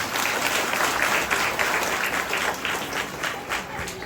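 A village crowd at an open-air religious gathering claps steadily, a dense, loud wash of applause running unbroken for a few seconds with a faint murmur of voices beneath.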